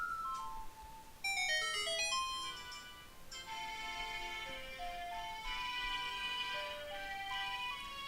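A bright ocarina melody, the Song of Storms from the game The Legend of Zelda: Ocarina of Time, plays on its own, each note held with clear tone, rising and falling steadily over several seconds.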